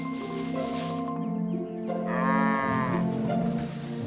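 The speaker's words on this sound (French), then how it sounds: "Toutes les vaches peuvent rentrer." Cartoon cows mooing on a farm in a Thomas the Tank Engine episode, a drawn-out low moo rising over a steady background of music, fairly close and clear.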